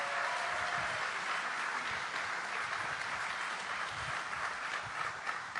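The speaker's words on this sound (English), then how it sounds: "How about a round of applause for Randall and the crew?" A large audience at a political event applauds steadily throughout, a dense, even wash of clapping that stays fairly faint and distant.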